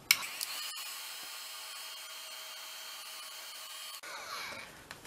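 A heat gun blows on shrink plastic, a steady airy whine and hiss that holds evenly, cuts off briefly near the end, then resumes with a rougher blast.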